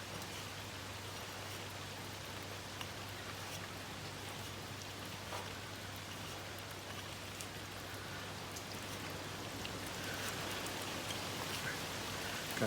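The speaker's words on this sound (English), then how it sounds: "It's raining really heavy here." Heavy rain pours steadily outside an open house door, a dense broadband hiss of drops on surfaces that continues without letup, with a low steady hum beneath.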